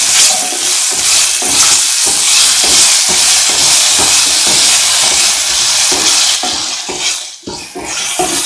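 Potatoes frying and being stirred in a pan for lemon potato rice, a steady loud sizzle with repeated scraping stirs throughout, no talking.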